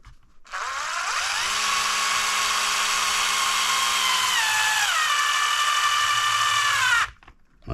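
An electric screwdriver drives screws into a Traxxas Stampede 4x4 chassis, a close, continuous high whine lasting about six seconds that shifts pitch midway as the motor loads, then cuts off.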